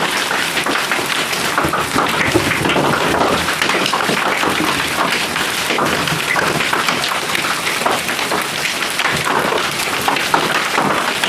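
Heavy hail pounds down in a dense, steady roar, loud and continuous, with no voices.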